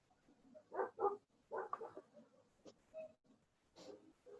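A dog barks in a quick pair of sharp, close barks, followed by a second burst and a few softer yips, all standing out clearly against a quiet indoor room.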